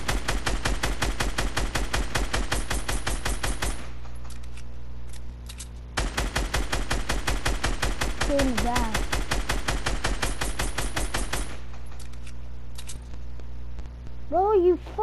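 Rapid automatic gunfire in Fortnite, two long, evenly spaced bursts of loud close shots separated by a brief pause, with short voiced sounds and game effects between.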